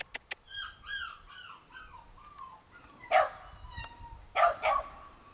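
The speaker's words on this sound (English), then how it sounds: "There go the puppies!" Vizsla puppies yipping and barking in short high bursts, a few quick sharp yaps followed by clusters of louder barks, fairly close but modest in level.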